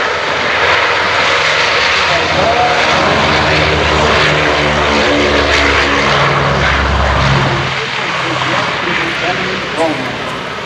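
Propeller aircraft flying at the EAA AirVenture Oshkosh airshow, a steady loud engine drone with throbbing low tones that swells and fades slightly, under a narrator's voice.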